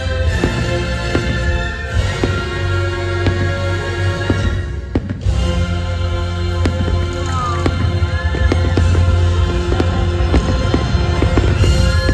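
Fireworks burst over Tokyo DisneySea in a night show, the pops and booms heard at a distance against a steady bed of music and crowd noise.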